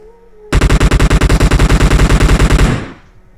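A loud, close burst of rapid automatic fire from a shooter game, about twenty evenly spaced shots in a little over two seconds, then a short ringing tail with no talk.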